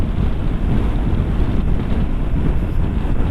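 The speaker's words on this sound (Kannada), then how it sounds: "dangerous cross wind cross wind ಹೊಡೆಯುತ್ತಂತಿಲ್ಲಿ" A strong crosswind on a highway roars against a moving vehicle in a dense, continuous rush of buffeting noise, loud and steady with no voices.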